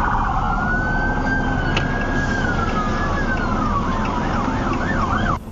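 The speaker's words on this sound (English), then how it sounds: "marked and unmarked police cars with emergency lights and sirens activated sped past in hot pursuit" Police sirens on marked and unmarked cars wail loudly in pursuit of a stolen pickup truck, rising and falling then switching to a fast yelp as vehicles rush past amid road noise.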